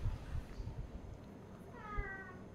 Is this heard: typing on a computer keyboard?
no